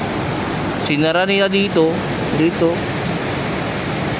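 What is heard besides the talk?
water flowing through a tunnel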